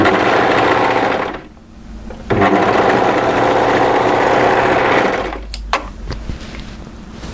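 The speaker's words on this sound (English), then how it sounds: "come straight through to the other shoulder and overlock that into place as well" An overlocker stitches a shoulder seam on a pleated maxi wrap dress with a loud, even, high-pitched motor whir. It pauses briefly, runs again at full speed, then stops, leaving a few light clicks.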